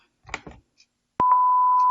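Infant incubator alarm starting up as the machine switches on: a sharp click, then a continuous steady electronic beep tone, close and clear, after a few faint clicks and button sounds.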